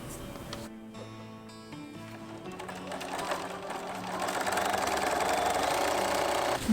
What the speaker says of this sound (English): Sew the other sides together.